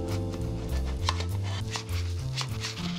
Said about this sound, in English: Now we loosen with a spatula.